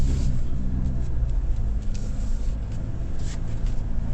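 A 2025 Kia Tasman X-Pro pickup crawls off road under light throttle, its engine giving a steady, low rumbling drone that holds an even level throughout, with no talk over it.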